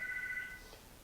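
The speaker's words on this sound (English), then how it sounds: "Sorry about the phone there." Electronic telephone ring during a yoga class, a steady high two-tone trill that sounds for about half a second and then cuts off, leaving quiet room tone.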